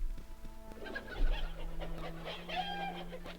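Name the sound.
chicken clucking in the video game Baldur's Gate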